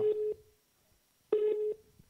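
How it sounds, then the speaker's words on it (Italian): A telephone busy signal of the jammed-line kind, two steady beeping tone bursts separated by a pause of near silence, clear and up close with no talk. "Le linee sono intasate"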